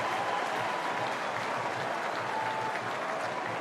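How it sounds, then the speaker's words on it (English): Steady, dense crowd applause fills a packed stadium at a 2005 AFL match between Fremantle and Collingwood, continuous and loud throughout with no breaks. "The applause in the background"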